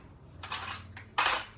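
A metal spoon clinks twice against a bowl while spooning apple-spiced mini muffin batter, two short bright scrapes a moment apart, close and fairly loud with quiet between.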